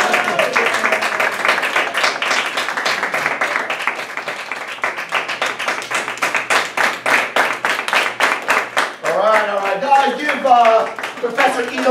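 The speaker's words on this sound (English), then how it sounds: "Keep the applause going." Audience applause at a Lake Mary Independence Day presentation: dense, steady clapping from a crowd runs throughout, with voices and cheering rising near the end.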